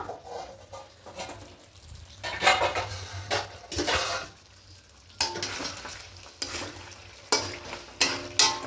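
Masala for a Gobindobhog rice kacchi biryani is stir-fried in a pot, with repeated clattering spoon scrapes and clinks against the metal over a continuous sizzle. The sound is close and moderately loud, and no one speaks.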